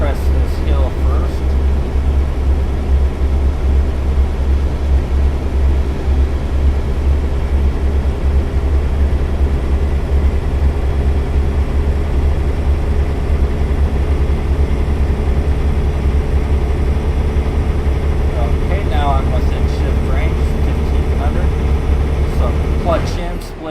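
A heavy truck with an Eaton Fuller 18-speed transmission labors up a steep incline, its deep engine drone steady and loud throughout with a constant low rumble and no pauses.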